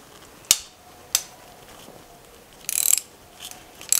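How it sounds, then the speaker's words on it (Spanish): A 3/8-inch ratchet loosening engine bolts: two sharp single clicks close by, then a quick burst of rapid ratcheting and a few more short clicks, with no talk. "Aquí sí estoy utilizando una matraca de 3 octavos."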